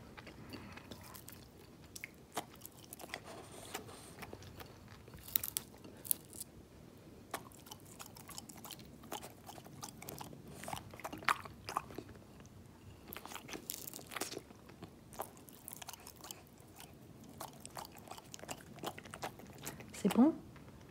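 A French bulldog crunches and chews a crispy croissant up close, with irregular crackly bites continuing throughout as a person talks softly now and then.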